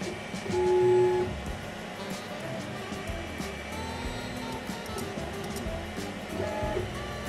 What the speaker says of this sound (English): Then, I engrave the same thing two more times to see if the lines align.